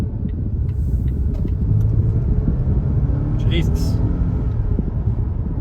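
Volvo XC90 T5 with a twin-boosted four-cylinder accelerating hard on a Miami road, heard from inside as a steady low engine and road rumble, with a person speaking over it.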